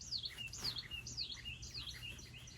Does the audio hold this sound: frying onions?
no